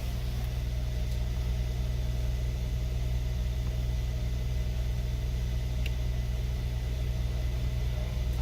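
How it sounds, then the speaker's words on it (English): Air suspension compressor running on a 2013 Mercedes GL with a suspension leak, a steady low motorized drone and hum holding constant without breaks, no talking. "You see the compressor is on"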